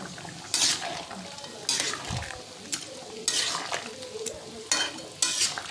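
Curry broth with bottle gourd, small lata fish and green chillies bubbling in a pan, a steady simmer broken by several loud stirring scrapes and brief clinks of utensils against the pot.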